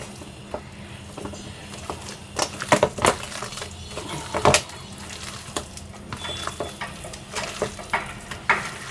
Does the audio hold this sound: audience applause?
no